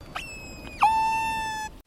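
A single high-pitched whistling orca call rises briefly, then holds a steady tone for about a second over faint underwater background hiss.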